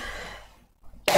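A man in an online university lecture coughs, a hoarse trailing cough fading to silence, then one sharp loud cough bursts out close to the microphone.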